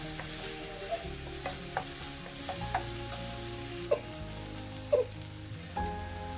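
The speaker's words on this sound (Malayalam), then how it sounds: "ഇനി എല്ലാം കൂടി നമുക്ക് നന്നായിട്ടൊന്ന് ഇളക്കി കൊടുക്കാം." Spices and turmeric being stirred into tomato rice masala in a pan, a soft continuous sizzle with occasional scraping knocks of the spoon, quiet and close.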